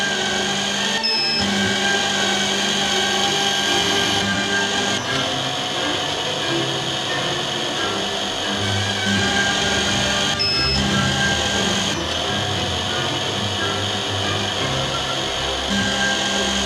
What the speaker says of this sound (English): Press the lever to start drilling.